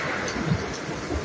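Heavy rain pouring down on a rainy day, a steady dense wash of noise with low rumbling, continuous and fairly loud throughout.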